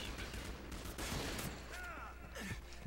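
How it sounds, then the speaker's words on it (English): Quiet, scattered bursts of gunfire sound from a video game. "Who is shooting me?"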